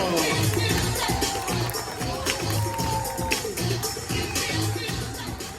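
Audience at a sea lion show at the New York Aquarium on Coney Island, loud continuous crowd applause and cheering filling the space, with a voice over the noise.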